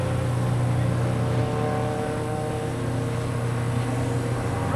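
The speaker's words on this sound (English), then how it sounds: "Claude Justice finishes his race in the Anglia" A classic Ford Anglia race car at the finish of a classic car race produces a steady, droning engine tone with a sustained harmonic hum over a constant rumble, fairly loud and without talk.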